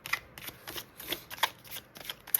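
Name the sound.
shuffling a deck of tarot cards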